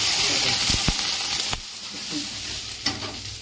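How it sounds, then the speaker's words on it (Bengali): Whole cumin seeds and dried red chilies sizzle and crackle in hot oil for a tempering, a steady close frying hiss with a few sharp pops and stirring clatters, no voices. "জিরে ফোড়ন দিলাম, গোটা জিরে, শুকনো লঙ্কা, একটা নারকেল দিয়ে করলাম।"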